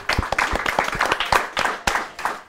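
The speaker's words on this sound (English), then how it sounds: "A round of applause as well to Brad." An audience at a live recording claps in a brisk, continuous round of applause, with close, sharp individual claps standing out from the crowd.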